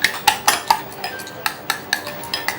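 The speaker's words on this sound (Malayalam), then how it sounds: "ഇങ്ങനത്തെ ബീറ്റിംഗ് മതി. സ്പൂൺ കൊണ്ടോ ഫോർക്ക് കൊണ്ടോ യോജിപ്പിച്ചാൽ മതി." A spoon or fork beats two eggs in a bowl, giving a quick run of sharp, close clinks against the rim in an uneven rhythm, loud and clear with no talking.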